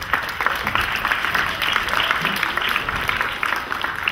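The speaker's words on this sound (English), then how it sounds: "Let us say thank you to all those who have made it possible for us to be here in this stadium with" Applause at a school football tournament opening ceremony in a stadium, steady and sustained clapping from a sizable crowd, even in level for several seconds with no voices over it.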